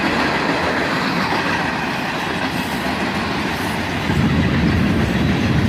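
A freight train of green rail tanker cars rolls past close by in a loud, steady rumble, with faint wheel clatter and a brief squeal of metal wheels.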